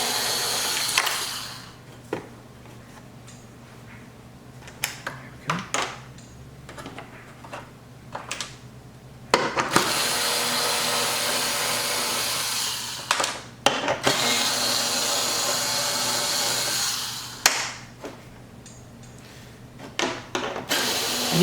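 A power tool runs in bursts while removing screws from the body of a C8 Corvette, several whirring spells of a few seconds each broken by quiet pauses and small clicks and taps.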